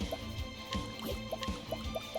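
Soft liquid gulps and small wet drips as someone drinks water close to a microphone, a quiet irregular series of swallowing and sloshing sounds over a low background hum.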